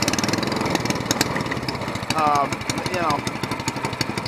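A single-cylinder longtail mud motor engine runs steadily and loudly, a dense rapid thudding pulse with shaking vibration throughout, while someone talks over it.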